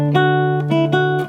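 Classical guitar improvisation in 6/8 using a dotted rhythm: a short run of plucked nylon-string notes over a sustained low tone, close and clear, with no voices.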